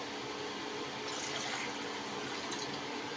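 Water gushes steadily into a cooking pot, filled to boil for rice in a home kitchen while making veg biryani; a faint, continuous pouring rush with no voices.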